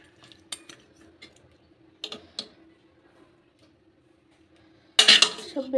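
Ladling cooked chicken curry out of a pot brings sparse light clinks and taps of metal utensils, then a louder rattling scrape of a spoon against the pot near the end, close and with no talk.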